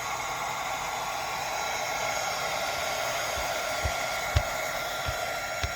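A hot air blower hisses with a steady, even rush of air while heating a warped magic mat, a few faint taps and knocks popping up under the continuous blast near the end.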